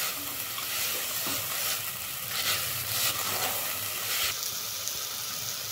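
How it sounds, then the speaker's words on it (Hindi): Buckwheat (kuttu) grains roasting in a pan give a steady dry sizzle and rustle, with scraping strokes as the grains are stirred, close and even throughout with no talking. "अब डाल देंगे कुट्टू और कुट्टू को भी भून लेंगे"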